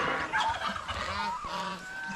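Noisy farm geese give loud, nasal honks that overlap in a brief, close-up burst of squawking calls with no talking.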